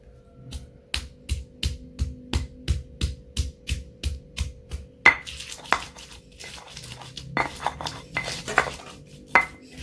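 Chili ground with a stone mortar and pestle, heard as a regular run of sharp, close stone-on-stone knocks that turn into scraping and irregular grinding clatter.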